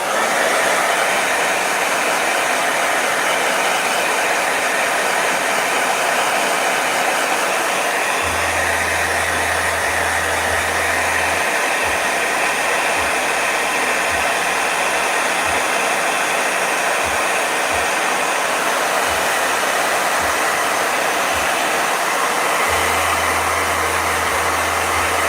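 A blow dryer runs steadily throughout as a constant broadband airy whoosh, loud and unbroken, with faint low hum blips coming and going underneath.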